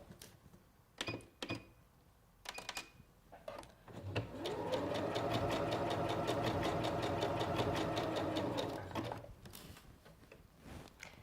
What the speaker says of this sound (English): I'm going to take this first pin out, and I'm going to start sewing